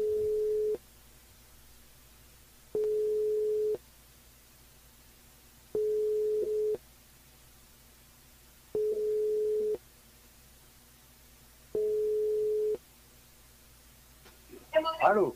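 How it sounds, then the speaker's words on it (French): A telephone busy tone on a call line to a radio listener near Saint-Louis during a live FM broadcast: five steady, evenly spaced beeps about a second long, then a brief burst of noise at the end. "on appelle Yannick du côté de Saint-Louis"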